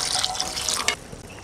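Water splashes into a pan of spiced orange shol fish curry in a short, close, bright pour that ends abruptly, leaving a low simmer behind.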